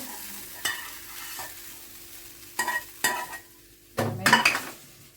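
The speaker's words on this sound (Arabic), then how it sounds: "هنا في الطاسه دي انا بشوح الصدوق، بديه تشويحه بسيطه بالسمنه" Sausage sautés in ghee in a pan with a low sizzle, broken by a handful of sharp metal scrapes and clinks of a utensil against the pan, clustering louder near the end.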